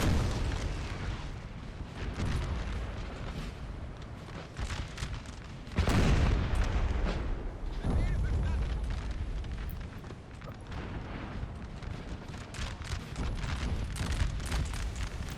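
Battlefield gunfire and explosions in Napoleon: Total War, a continuous barrage of distant musket cracks and cannon booms, with one heavier blast standing out midway, no talk.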